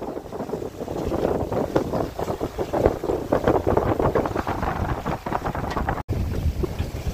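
A sailboat under sail pounds into waves head-on, with loud rushing water and wind buffeting the microphone in continuous surges, no speech.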